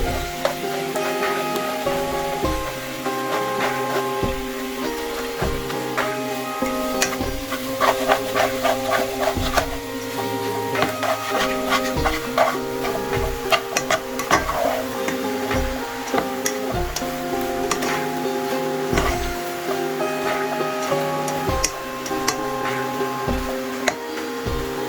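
Pineapple caramel prawn rice being stirred in a pan, with a steady sizzle and repeated scraping and tapping strokes of the utensil against the pan, close and continuous throughout.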